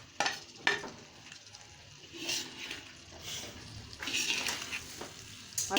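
Pre-fried okra is stirred into sizzling masala in a pan for bhindi sabzi, giving faint frying sizzle with intermittent scraping and stirring clatter.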